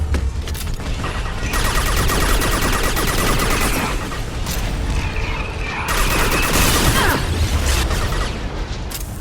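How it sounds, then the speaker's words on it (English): Anti-ship batteries firing at a collector vessel in the game Mass Effect 2, a loud, continuous barrage of booming blasts and rapid mechanical gunfire that surges again partway through, with no voices. "Firing anti-ship batteries at collector vessel."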